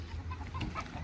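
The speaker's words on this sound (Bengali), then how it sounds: "অনেক বড় মুরগি আছে মনে হচ্ছে" Local chickens on a farm in Kuwait give a few soft, low clucks, faint and close together in a brief moment.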